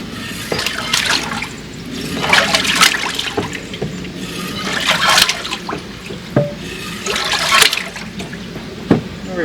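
Rust-cleaning solution sloshes and splashes in a bucket as it is agitated, in repeated surges of churning water with drips and trickles between them, close and fairly loud, with no voices.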